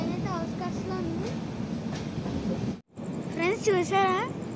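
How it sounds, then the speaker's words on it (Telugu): A passenger train hauled by a WAP-7 electric locomotive, stopped on the outskirts near Prayagraj, rumbles on steadily with brief metallic tones and a short cutout, while voices talk over it. "మన ట్రైన్ వచ్చేసి VAP7 లోకోమోటివ్"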